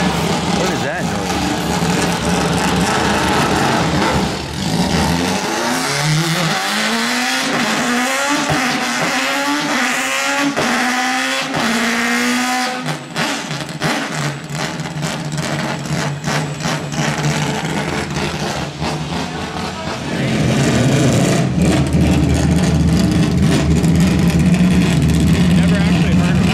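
A big-block car engine revs hard at close range in a garage, its pitch climbing in repeated sweeps before settling into a loud, steady roar; the engine is not a rotary, and people talk over it throughout.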